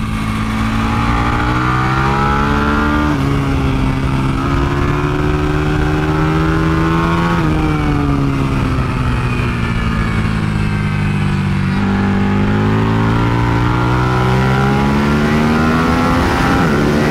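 A 2023 Buell Hammerhead 1190 motorcycle rides hard on a race track, its engine droning loud and close throughout with repeated rises and falls in pitch as it accelerates and backs off through corners.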